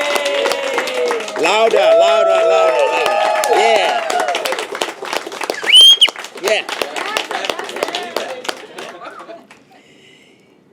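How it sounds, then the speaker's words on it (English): Audience at the 2024 ICF Coaching Impact Awards ceremony clapping and cheering for award winners, lively applause with whoops and a shouted cheer, people talking and calling out over it before it fades. "A round of applause for all our winners."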